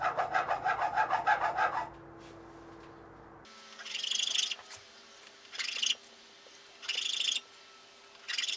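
Rasping strokes of a file taking down the profile of a guitar saddle during a setup, heard as separate bursts of scraping after a low hum, close and fairly quiet.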